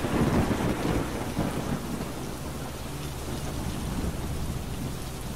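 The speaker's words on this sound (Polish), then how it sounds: "No nie, jeszcze piorun." Heavy rain pours steadily in the video game Another Dawn, a dense wash of drops with a deep rolling rumble of thunder strongest at the start, with no voices over it.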